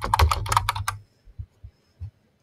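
A brisk burst of typing on a computer keyboard, rapid close keystrokes for about a second, followed by a few softer, slower key taps.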